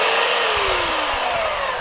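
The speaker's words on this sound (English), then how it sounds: "She's sanding the deck." A power sander works over a wooden deck with a loud, steady mechanical whine and gritty hiss that slowly falls in pitch, close up and uninterrupted by voices.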